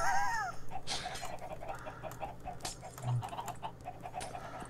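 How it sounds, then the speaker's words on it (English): Chickens on a chicken farm in the Minecraft video game cluck in repeated short bursts amid busy game noise and a low steady hum, moderately loud and continuous. "The chicken farm."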